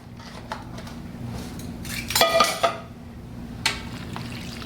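Warm pork broth for tamales is measured and poured in a kitchen, with light clinks of a metal cup or spoon, a short cluster of clattering around the middle and a final single clink, close and fairly quiet.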